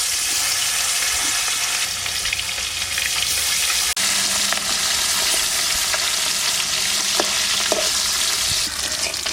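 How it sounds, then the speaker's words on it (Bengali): Bata fish frying in mustard oil in a wok, a loud, continuous crackling sizzle with bubbling spatter and a few sharp pops, heard alone without talk. "সর্ষের তেল দিয়ে দেবো কড়াইতে"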